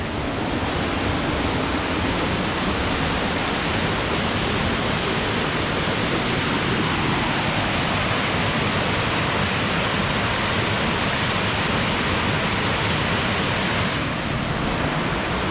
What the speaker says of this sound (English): we made it to Show Creek Falls